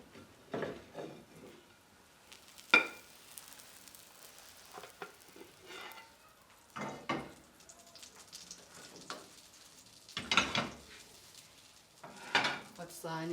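A plantain and egg frittata cooks in a pan with a soft, steady sizzle, broken by clinks and scrapes of a utensil on the pan at irregular moments.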